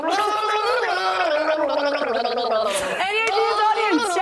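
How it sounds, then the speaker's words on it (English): Someone gargles a song with a mouthful of water in a guessing game on a kids' TV show, a close bubbling, warbling melody with bursts of laughter. "if the audience guess it, then whoever was gargling is going to win"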